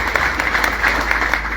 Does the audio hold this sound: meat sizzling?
no